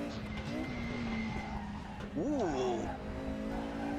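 Tires of a Mercedes 190 EVO II DTM squeal in a racing simulator game over a steady engine drone. A brief rising and falling screech stands out near the middle, and a person briefly exclaims.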